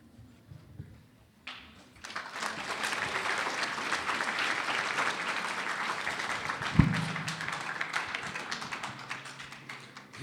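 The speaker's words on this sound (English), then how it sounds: "You don't have to clap." An audience at a youth session breaks into applause after a brief quiet pause. The clapping stays steady and moderately loud for about eight seconds, with one sharp knock partway through.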